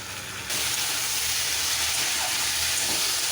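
Onion stalks fry in a pan with a loud, steady sizzle that starts abruptly and hisses on without pause; no one speaks.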